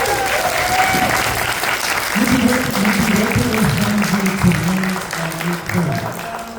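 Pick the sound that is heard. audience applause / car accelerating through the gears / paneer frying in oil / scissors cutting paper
audience applause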